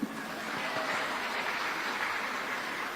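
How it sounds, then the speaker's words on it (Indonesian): Applause from a large audience of about a thousand doctors at a speech in Indonesia, steady, full clapping throughout. "Tepuk tangan dong."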